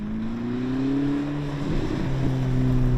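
A BMW M 1000 RR superbike and a 1000hp Ferrari SF90 Stradale roll along in second gear from 30 mph, their engines giving a steady, loud droning hum with rising tones that shift slightly partway through.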